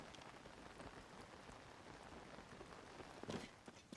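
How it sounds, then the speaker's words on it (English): Rain in The Legend of Zelda: Tears of the Kingdom: a soft, steady patter of drops on surfaces, faint and continuous, with a brief louder spatter near the end. "The rain audio is starting to sound real weird to me."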